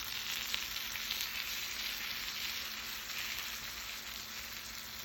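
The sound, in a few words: eggplant frying in olive oil and butter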